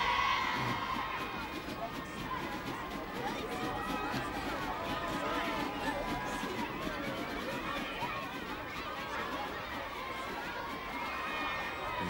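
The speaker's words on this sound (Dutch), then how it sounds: "juichen jullie allemaal maar en roep maar" A crowd of children cheers, shouts and chatters continuously at Sinterklaas's 1982 steamboat arrival on Marken, a lively, distant, steady din with voices mixed throughout.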